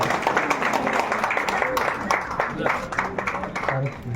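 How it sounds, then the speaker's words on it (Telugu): An audience applauds at an award ceremony honoring the chairman of Vasantha Seva Trust in Subhash Nagar, Medchal district. The clapping is steady and dense, with voices talking over it throughout. "చప్పట్లు కొట్టండి ఒక్కసారి సార్"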